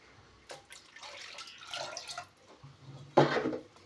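Water pours into a pot of lentils in a few short splashy bursts, quiet and close, ending with a louder gush as more is added.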